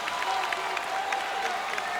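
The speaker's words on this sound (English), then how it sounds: "Versailles crowd behind us getting into it." A Versailles crowd at a boys varsity high school basketball game cheers and claps steadily, a continuous roar of voices and applause with some talk mixed in.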